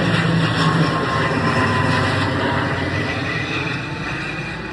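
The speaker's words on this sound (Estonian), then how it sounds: "Lennuk tuleb jälle." An airplane passing overhead, a steady broadband engine roar that holds loud through the whole stretch and eases off slightly toward the end, with no talk over it.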